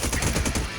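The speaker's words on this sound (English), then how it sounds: "I'm shooting them." Rapid gunfire from a shooter video game, a dense burst of automatic shots packed tightly together for under a second, loud and steady with no talk over it.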